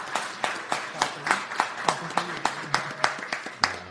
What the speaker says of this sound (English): please give a round of applause to these two gentlemen